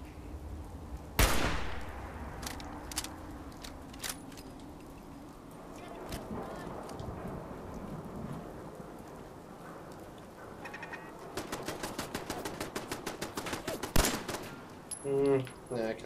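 Turret gunfire in Fallout 4 rattles from a rooftop position: a sharp shot early on, scattered single reports, then a fast clattering burst of repeated fire later, moderately distant with occasional voices.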